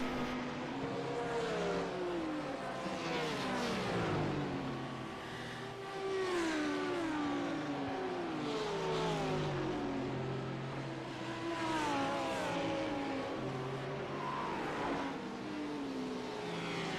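Porsche race cars driving in a sim racing game, engines revving and sweeping up and down through gear changes, several cars blending in a continuous loud drone with no talk.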